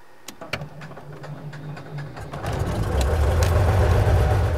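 A small airplane's engine idles as it taxis out, a low steady rumble under a few clicks and ticks, then growing louder and rougher midway as power rises.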